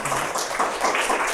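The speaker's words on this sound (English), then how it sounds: "This is probably the moment you should think about clapping." Audience clapping at a technical tutorial session, a dense, steady patter of many hands filling the room at moderate loudness with no talk over it.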